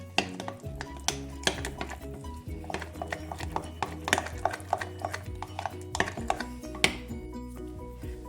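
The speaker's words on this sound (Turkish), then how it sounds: "Malzemelerimizi karıştırıyoruz." Dry cake ingredients, including baking soda, baking powder and salt, are mixed in a bowl for a caramel custard cake, with a steady run of clinking and scraping utensil strokes against the bowl, close and fairly loud.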